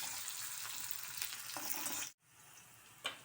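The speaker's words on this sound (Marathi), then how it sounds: "कांदा टाकूया तो कांदा ब्राऊन होईपर्यंत परतत राहूया" Onion and cumin frying in a pan, a continuous close sizzle with occasional stirring scrapes, cutting off abruptly near the end before a quieter sizzle and one last clink.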